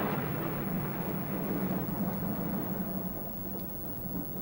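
Deep, continuous rumbling thunder rolls steadily as a sound effect in a retelling of the biblical plagues, dense and loud throughout with no voices.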